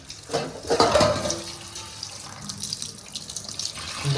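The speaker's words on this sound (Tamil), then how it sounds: "அதுக்கப்புறமா டேப் வாட்டரை திறந்து" Tap water running over freshly made paneer in a sink to rinse off the vinegar, a steady splashing flow, louder at first, then settling into a softer continuous trickle.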